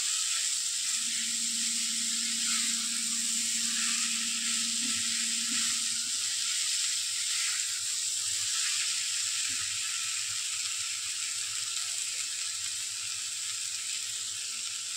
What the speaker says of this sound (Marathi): उसळ छान परतून घ्यायची.